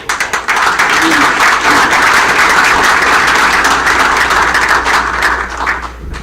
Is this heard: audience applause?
yes